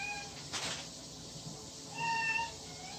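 A young dog lets out high, wavering yowls that sound almost like a cat, one brief cry early and a longer drawn-out one later, moderately close with room noise and no talking over it.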